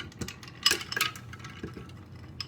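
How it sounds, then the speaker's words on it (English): A couple of ice cubes drop into a smoothie in the kitchen, giving a few sharp clinks and rattles against glass or a container, with quiet handling noise in between. "Couple ice cubes."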